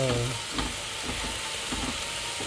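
Tlitli pasta browning in butter with a spoon stirring through it, a close steady sizzle with soft periodic scrapes, and a brief voice at the very start.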